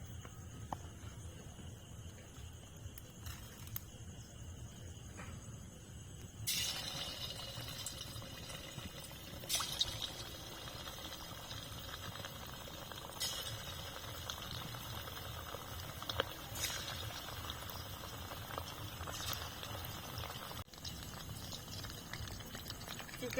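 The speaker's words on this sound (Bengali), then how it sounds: "আমি এখন ম্যারিনেট করা চিকেনটা আস্তে আস্তে ভেজে নেব" Marinated chicken for Chicken 65 frying in hot oil over a low flame, giving a steady bubbling sizzle with scattered sharp crackles and pops close by, and no talking.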